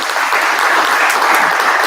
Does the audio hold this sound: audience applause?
yes